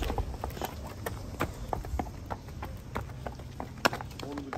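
A young foal's hooves clip-clop in an irregular series of sharp, fairly close knocks over a low background hum, with faint voices in the background.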